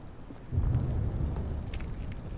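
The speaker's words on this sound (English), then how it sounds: "Is that thunder I'm hearing as well?" Low rumbling thunder rolls under a steady patter of rain in the video game The Stanley Parable, a soft continuous storm bed with no voices.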